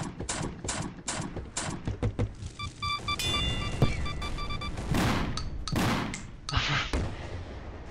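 Rocket launcher explosions in a video game, several sharp booming blasts and thuds scattered across a busy stretch of game sounds, with electronic beeping tones in the middle.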